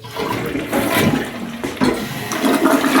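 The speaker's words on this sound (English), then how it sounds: "we actually turned on this toilet to see if it works. I flushed it." A household toilet in a house under renovation flushes, a loud close rush of water that surges and swirls for several seconds without pause, with no voices.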